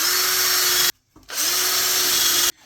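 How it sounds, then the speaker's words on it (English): A power drill bores pilot holes for screws in a hanging plant frame, two close, loud whirring bursts separated by a short pause, each spinning up and holding a steady pitch. "using those 4 marks, I'm going to put 4 pilot holes in"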